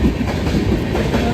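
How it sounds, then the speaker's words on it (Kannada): A train at Arsikere station rumbles close by with a dense, steady clatter of wheels on rails through this brief moment, no talking heard. "ಈಗ ನೋಡಿ ಇದೇ ಟ್ರೈನಲ್ಲಿ ಬಂದಿದ್ದೀವಿ"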